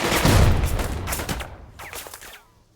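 Soldiers open fire in Burden of Command, a North African battle scene: a dense volley of rifle and machine-gun shots crackles close by, then thins into scattered reports that trail off into quiet.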